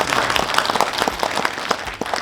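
An audience at a book launch event bursts into applause, a brief, dense patter of many hands clapping at moderate loudness with no talking over it.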